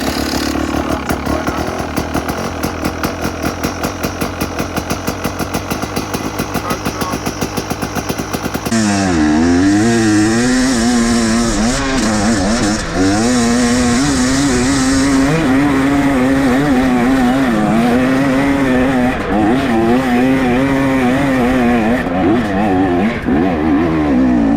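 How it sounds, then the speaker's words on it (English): A rebuilt KTM 300 EXC TBI two-stroke motorcycle engine starts for the first time after a top-end overhaul, a rhythmic cranking then a loud, close engine that catches and revs with fluctuating, sustained idling. "And this is the first startup since the rebuild."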